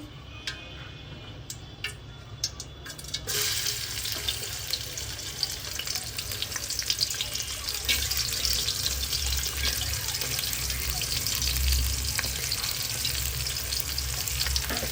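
Onion, ginger and garlic hitting hot oil for bhuna khichuri, a few clicks and taps giving way to a loud, dense sizzle that swells and stays strong, with stirring scrapes throughout.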